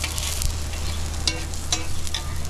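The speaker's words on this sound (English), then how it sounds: "There is the aloo and cheese paratha. It's going to go chucked right on there. You can hear that sizzle." Aloo and cheese paratha sizzling on a hot griddle pan at a Pakistani breakfast stall, a steady close crackling fry with brief louder spits and a low hum underneath, no talking.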